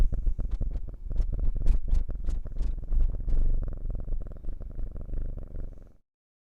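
A kitten purrs steadily up close, a loud continuous low rumble with rhythmic breathing pulses, stopping abruptly near the end.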